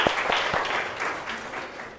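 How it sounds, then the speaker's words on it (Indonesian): A short round of applause for a student during a classroom lecture, with several sharp claps at the start that blend into a brief, moderately loud spatter of clapping that fades out. "kita kasih aplaus untuk Naila"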